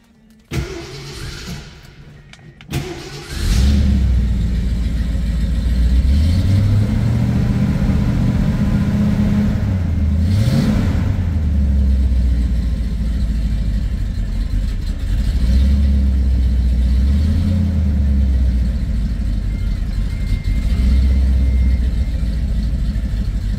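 Engine of a 1968 Ford Torino GT Indianapolis 500 Pace Car convertible cranks and fires, then settles into a loud, close, rumbling exhaust idle with several revs rising and falling.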